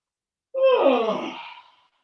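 A single open-mouthed yawn during a slow movement exercise, lying down on one leg with the head turned aside, a loud close exhalation rising and then fading away after a moment of silence.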